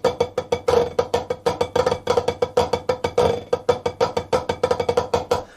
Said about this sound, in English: A traditional grip pattern often sounds like this.